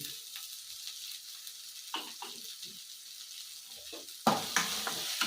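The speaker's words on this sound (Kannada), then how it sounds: "ಈಗ ತುಪ್ಪ ಹಾಕ್ಕೊತಾ ಇದ್ದೀನಿ" Ghee sizzling and frying in a hot pan while coriander chutney is made, a steady soft crackle throughout with small stirring clatters and a sharper burst of sizzle near the end, close and moderately quiet with no talk.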